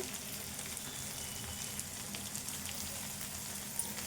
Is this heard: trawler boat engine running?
no